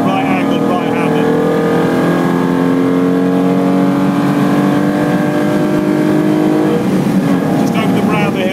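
Loud, close engine of a Lancia Stratos race car on a flying lap at Le Mans Classic, a sustained rising drone that climbs in pitch through the gears, then dips and picks up again near the end, with a voice talking over it.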